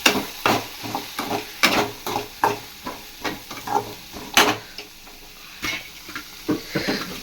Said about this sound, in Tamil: நல்லா வெங்காயம் வதங்கிட்டு இருக்கு.